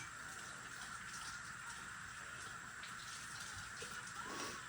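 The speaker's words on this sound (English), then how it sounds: "Do a quick rinse of your hands." Running tap water pours steadily as hands are rinsed after handling muffin batter in a kitchen, a faint, even gush with light splashing and no voices.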